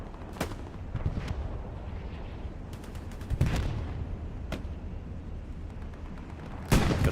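Machine gun fire rings out across a desert battlefield in the Hell Let Loose video game, with scattered sharp gunshots and booming reports over constant rumbling combat noise.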